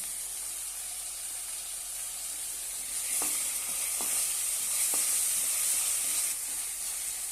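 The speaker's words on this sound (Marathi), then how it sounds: "तेलावर छानपैकी परतून घेऊया" Finely chopped tomato sautéing in hot oil with ginger-garlic paste, a steady bright sizzle throughout that grows slightly louder midway, with a few soft spoon scrapes against the pan and no talking.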